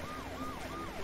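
A police siren in The Escapist 2 video game wails in steady repeating sweeps, rising and falling about every third of a second, over a faint engine rumble.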